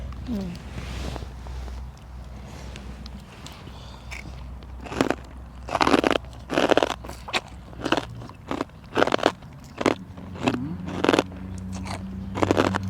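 Close crunchy bites and chewing of spicy Thai-Lao papaya salad (som tam) with fermented fish sauce, sharp crackly bursts repeating irregularly over a low steady background hum.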